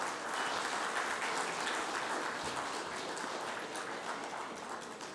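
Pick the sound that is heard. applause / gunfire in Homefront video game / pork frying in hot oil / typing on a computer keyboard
applause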